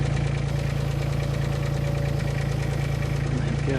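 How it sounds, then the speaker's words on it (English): A John Deere tractor engine idles steadily in Farming Simulator 19, a continuous low mechanical drone with a throbbing pulse that runs unbroken and fairly loud throughout, with no speech over it. "that John Deere is an absolute fantastic tractor"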